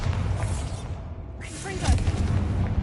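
Bombarda blasting spell in a wizard video game: a dull booming blast with a rushing whoosh, followed by a second softer burst near the end, with game ambience around it.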